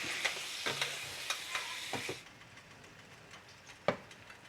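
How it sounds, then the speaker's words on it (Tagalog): Scraping and clinking of a utensil stirring mung beans being sautéed in a pot before water is added, quick irregular strokes with a light sizzle underneath, then a quieter stretch and one last knock. "I-mix-mix ko lang to guys bago natin lagyan ng tubig."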